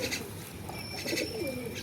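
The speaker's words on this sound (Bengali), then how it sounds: "এই দেখো জোড়া শালিক" Birds call outdoors in soft, repeated coos and chirps, with thin whistled notes over a constant background hum, moderately close and fairly faint; the calls are attributed to a pair of common mynas.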